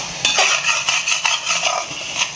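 A utensil scrapes and knocks against a pan while stirring karuvadu (dried fish) thokku cooked down in oil, a string of close metallic clinks and scrapes in an irregular rhythm without talk.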